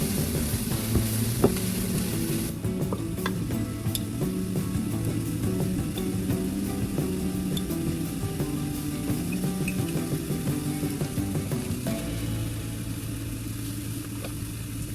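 Onions fry in oil in a pan for a home-cooked jackfruit curry, giving a steady close sizzle for the whole stretch with occasional clicks and scrapes of stirring.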